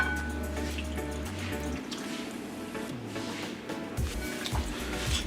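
Liquid marinade pours and splashes wetly onto raw chicken in a bowl, a close, continuous glugging with some squishy drips.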